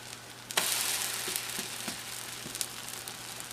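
Pork rind tortillas sizzle steadily in a hot pan, a constant bright frying hiss with a few soft pops and crackles, close and unbroken with no voices.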